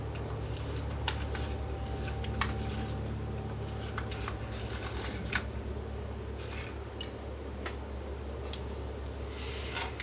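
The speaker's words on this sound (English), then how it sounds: "move the tape forward a little bit." A VHS cassette's tape reel is handled and the tape advanced by hand, producing a steady run of small ticks and soft clicks over a constant low hum, fairly quiet and close.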